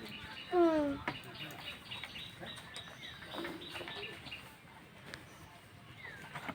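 A common myna, kept as a pet bird, gives a couple of clear, close, rising whistled calls near the start, followed by softer chirps over a low outdoor hum.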